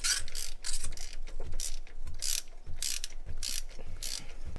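A ratchet wrench clicks rapidly in short repeated bursts while unscrewing parts on a Supercar, producing close, crisp metallic ratcheting strokes at a regular rhythm with no talk.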